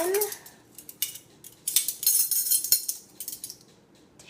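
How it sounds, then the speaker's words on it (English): Metal measuring spoons clink and rattle close by in a series of bright, irregular taps and jingles, sometimes clustered, with no talk. "And I have these measuring spoons"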